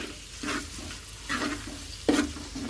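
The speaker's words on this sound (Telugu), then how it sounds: "కొత్తిమీర వేసుకుందాం ఫ్రెండ్స్. మంచిగా కలుపుకుందాం." Bitter gourd curry with coriander leaves being stirred in a pan, giving soft scraping strokes in three separate bursts over a faint, steady sizzle.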